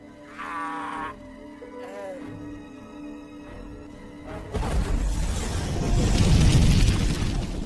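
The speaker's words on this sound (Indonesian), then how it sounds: "Terjadi banyak ledakan yang menghancurkan banyak monster." Explosions in a sci-fi film about mutants in the year 2700, a burst of loud, dense booming rubble and debris noise building from mid-clip to the end, after quieter score and effects.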